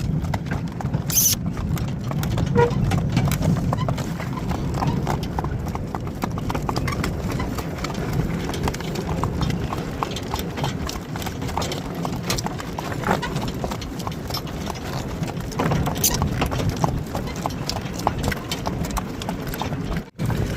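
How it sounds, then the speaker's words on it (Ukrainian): Horse hooves clip-clop steadily as several workhorses walk over soft ground and stones, a continuous uneven patter of hoofbeats with faint background voices. "Там, де м'яко, коні йдуть впевнено, а по камінню, звичайно, болить"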